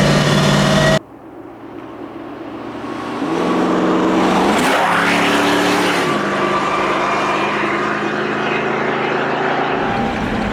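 A custom Toyota FJ40 Land Cruiser drives on the road, its engine droning loud and close, rising in pitch as it accelerates through the gears and then settling into a steady cruise.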